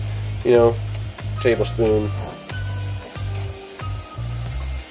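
Ginger garlic paste, a couple of tablespoons, hitting a hot pan for butter chicken and sizzling steadily throughout, with stirring bumps and a few brief voice-like sounds over the frying.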